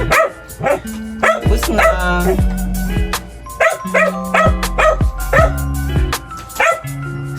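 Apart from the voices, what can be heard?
dog barking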